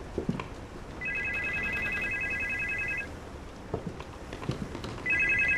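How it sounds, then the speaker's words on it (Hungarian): A telephone rings inside the horror video game Supernormal: two bursts of a repeated electronic trill, one lasting about two seconds and a second starting near the end, over a quiet ambient background. "Nem tetszik. Miért csörög a telefon?"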